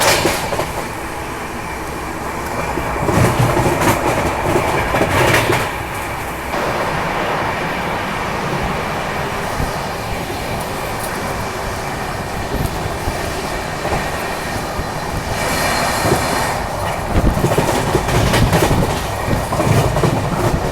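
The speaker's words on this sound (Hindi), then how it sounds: "बढ़िया ट्रेन जो है वो भागती है इस रूट पे" The Karnavati Express, a passenger train on the Ahmedabad–Mumbai route, rumbles past on the rails with a loud, steady roar and rhythmic wheel clatter throughout, swelling at moments with metallic screech.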